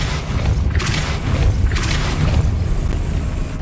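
A Depulso spell cast in Hogwarts Legacy, heard as repeated whooshing bursts with booming low thumps over a dense, steady game soundscape.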